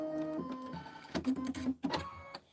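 An embroidery machine stitches the placement line for a dragonfly design, a steady mechanical whir with rapid needle patter and brief pauses, fairly close and alone.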